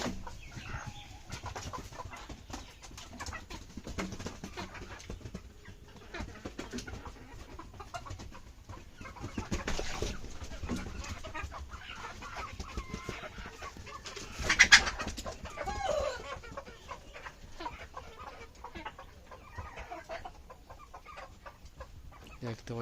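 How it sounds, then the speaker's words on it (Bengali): Two roosters fighting, with scattered clucks, flapping and scuffling heard faintly at a distance over steady background noise, one sharper squawk standing out midway. "দেখতে পাইতেছেন সব পানি পানি ফালাইয়া কি এক অবস্থা দুই মোরগের"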